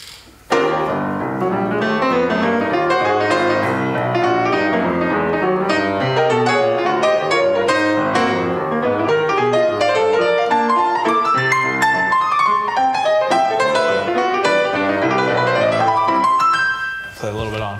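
Solo piano performance of a piece in jazzy big-band style, a steady walking bass line in the low register under busy chords and melodic runs above, dense and continuous throughout at a recital.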